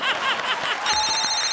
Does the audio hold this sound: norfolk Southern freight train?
no